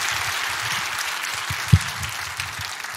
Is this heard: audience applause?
yes